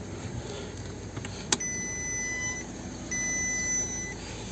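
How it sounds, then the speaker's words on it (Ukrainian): A 2013 VW Touran 2.0 TDI with an open door chimes a steady, high warning beep in two long stretches, separated by a short gap, over a low engine idle and a brief click. "Попереджає, бо двері відкриті, воно пищить зразу"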